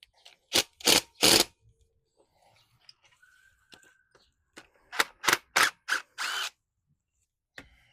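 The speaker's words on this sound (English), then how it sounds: "I'm just tapping it with my rubber mallet." Rubber mallet tapping the cylinder head of a 1969 Honda CB350 motorcycle: a quick cluster of three sharp knocks, then a quiet pause and a second rapid run of five close, firm thuds.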